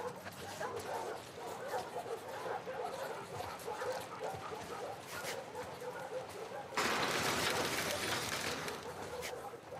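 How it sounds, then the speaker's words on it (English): A dog in The Last of Us Part II gives short yips and whimpers over steady game ambience, with a louder burst of broadband noise near the end. "Hey, you crazy dog."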